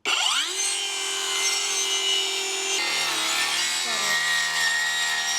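A saw cuts through a piece of wood while building a chicken pen, giving a loud, continuous close-up whine that holds steady and then drops in pitch partway through, with no one speaking.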